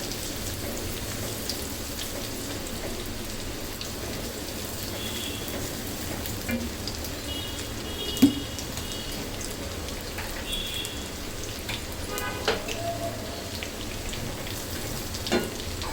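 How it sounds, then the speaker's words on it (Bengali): Chopped ginger frying in a pan for beef chilli onion gives a steady, soft crackle and sizzle with a few sharper pops, continuous and fairly quiet, with no talking. "এখন সামান্য দুই মিনিট ভেজে নিব এটা"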